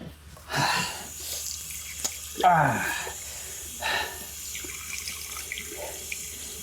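Water runs from a tap into a sink in a quiet indoor room, coming in short bursts of splashing and gushing separated by near-silence, with one louder pour in the middle.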